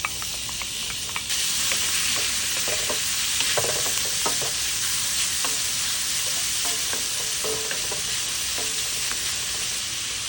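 Bacon sizzles and fries in a pan, rendering its fat as the base for bacon gravy in a Southern fish-and-grits meal. A dense, steady hiss and crackle runs throughout, with occasional louder spits and pops, and no one speaks.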